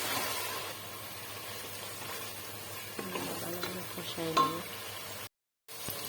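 Cumin and garam masala stirred and frying in a hot pan, a steady sizzle with scraping stir strokes near the end, close and moderately loud before a brief cut to silence.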